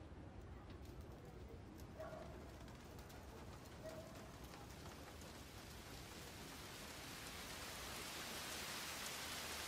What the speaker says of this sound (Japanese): や、雨か。